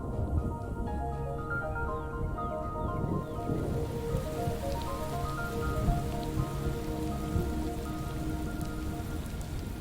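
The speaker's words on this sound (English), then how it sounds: "the coming of the rains" Steady heavy rain pours through the whole stretch during the rainy season on an African savanna, with faint rolls of distant thunder mixed in; no voices are present.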